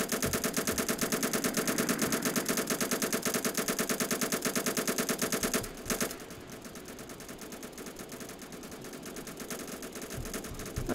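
Ships in the Roblox game Naval Warfare fire a fast, loud, dense stream of gunfire for about five seconds, then the barrage drops to a softer, rougher rattle of distant shots that keeps going to the end.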